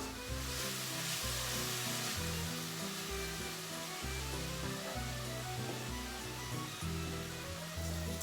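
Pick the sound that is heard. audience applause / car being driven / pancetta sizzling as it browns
pancetta sizzling as it browns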